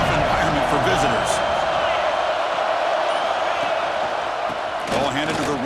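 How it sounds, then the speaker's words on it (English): Crowd noise from a College Football 26 game fills a stadium with a steady, loud roar that never lets up, while a commentator talks over it. "Listen to the crowd energy here in the early going."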